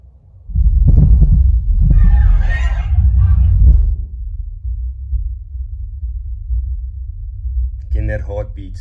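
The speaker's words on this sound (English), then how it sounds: "That heartbeat, it's so hard to hear on some systems." A cinema heartbeat effect plays through large subwoofers as a deep, pulsing low rumble for a few seconds and then fades to a low hum, followed by a short spoken phrase.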